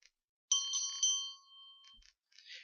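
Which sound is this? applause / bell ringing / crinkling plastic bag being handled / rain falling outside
bell ringing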